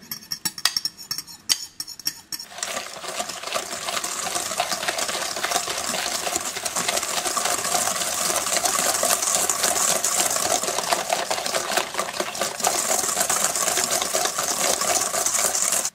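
An electric mixer beats cheesecake brownie batter flavored with almond extract, a steady whirring drone with clinking against the bowl, starting after a few scattered knocks and running continuously.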